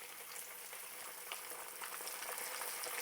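Pork chops deep frying in hot oil, a steady dense sizzle and crackle throughout, close and continuous with no talking.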